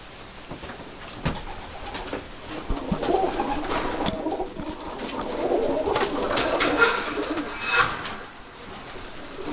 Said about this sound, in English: let me show you some kit pigeons now